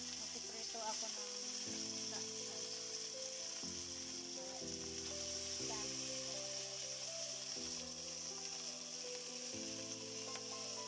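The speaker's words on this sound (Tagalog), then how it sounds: "yung ulam ko, piniretong galunggong tsaka kamatis" Galunggong fish and tomatoes fry in a pan with a constant, moderate sizzle and crackle, while a low tonal hum runs underneath throughout.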